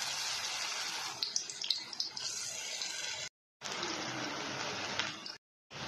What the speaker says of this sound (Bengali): তেলটা গরম হয়ে গেছে, ওটাতে একটা করে দিয়ে দেবো।